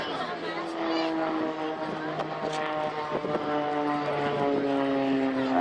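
A propeller aerobatic airplane performing at the Blackpool Airshow gives a steady droning engine tone with shifting pitch, heard from a distance under an announcer's commentary.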